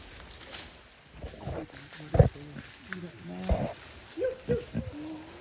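Deep, guttural roaring calls from a howler monkey come in several bursts, fairly close, mixed with some background voices, in Monkey River, Belize.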